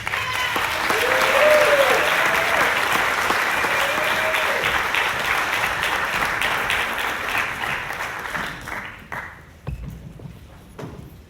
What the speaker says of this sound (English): Let's give our drama students a round of applause.